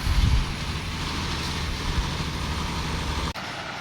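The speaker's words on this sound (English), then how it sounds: "there's also a bunch of logging trucks that keep passing by" A logging truck rolls past on a forest road near a creek at a dispersed campsite, its low engine rumble and tyre roar loud and steady before cutting off abruptly.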